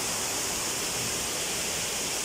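A clean river flows near a waterfall in a steady, loud, unbroken rush of water with no pauses.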